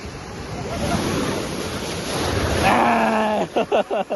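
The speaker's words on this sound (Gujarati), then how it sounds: "ભાઈ ફાઈનલી આવી ગયા દરિયા ની અંદર" Waves break on the beach at Tithal or Parnera with a rushing roar of surf and wind noise, then a loud drawn-out human exclamation and short bursts of laughter near the end.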